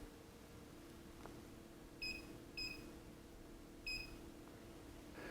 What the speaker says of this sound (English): the beep as you press or tap the different display buttons